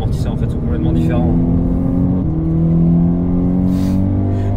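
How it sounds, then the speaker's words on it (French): Renault Clio 3 RS engine revving hard, a loud continuous rasping roar with rising and shifting pitch, close up and filling the whole stretch. "Puis c'est rageur comme moteur."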